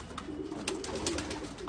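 Pigeons cooing softly at close range in a loft of show pigeons, a steady run of low throaty coos with light rustling and no voices.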